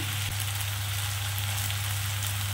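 Kochu lati (taro stolon) curry fries in a pan with a steady, close, loud sizzle and faint stirring, with no talk.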